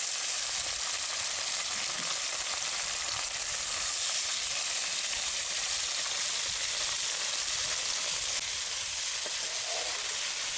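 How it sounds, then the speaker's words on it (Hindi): Chelwa fish fries in smoking hot oil, giving a dense, loud, unbroken hiss and crackle that stays close and even for the whole stretch. "अब इसमें मछली डालेंगे।"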